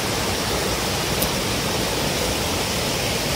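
A waterfall surrounded by cliffs at Segara Anak on Mount Rinjani produces a loud, steady roar of rushing water, broad and unbroken throughout with no voices.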